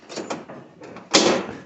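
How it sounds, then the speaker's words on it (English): A door on a 1980 Triumph TR7 being refitted during bodywork repair swings shut, a few light metallic clicks and rattles building to one firm, close latching thud near the end. "So the door is closed"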